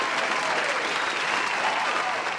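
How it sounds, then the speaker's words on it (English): Applause for a podcast guest named Ish, a steady wash of many hands clapping together, close and sustained throughout with no breaks. "Let's give a round of applause for my boy Ish and everybody"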